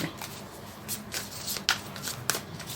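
Tarot cards shuffled and handled during a Thai love reading, a soft continuous riffling with two sharper card snaps standing out, close and fairly quiet, with no voices.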